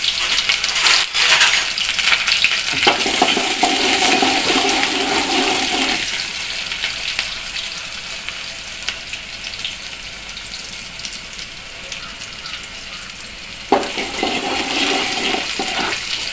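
Small onions tossed into hot oil with fenugreek seeds for an anchovy fish curry, a loud, dense, continuous sizzle that eases midway and then flares up again with a sharp burst near the end.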